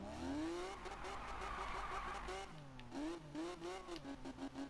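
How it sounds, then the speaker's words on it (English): A Lamborghini in Need for Speed spins its tires in a burnout, the engine revving and wailing up and down while tires squeal, fairly faint and steady with brief pitch swoops near the end. "I'll do a burnout."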